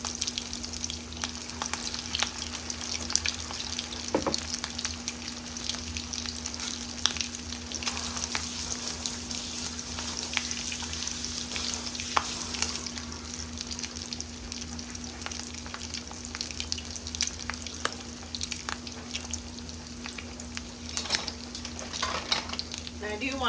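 Tuna patties made with stuffing sizzle and fry steadily in a pan, a continuous close crackle with occasional light clinks of utensils, no talking.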